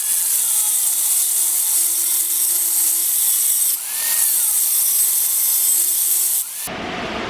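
A power saw cuts through a Ford 8.8 axle tube, making a loud, continuous grinding hiss with a steady tone and one brief dip partway, close up, before the cut ends and the noise drops.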